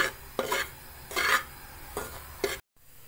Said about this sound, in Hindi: सूजी को घी में डालने के बाद इसको थोड़ी देर के लिए भूनेंगे